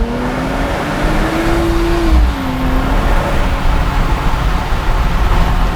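A Nissan Z NISMO drives through a tunnel, its cabin filled with steady, loud wind and road roar, with a faint engine hum drifting in pitch underneath.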